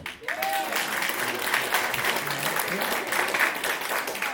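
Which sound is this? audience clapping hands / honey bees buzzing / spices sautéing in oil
audience clapping hands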